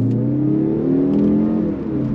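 A 2024 Mazda 3 Turbo AWD sedan pulls hard under throttle, its engine note rising in a smooth, loud, continuous drone heard from inside the cabin, with no talking.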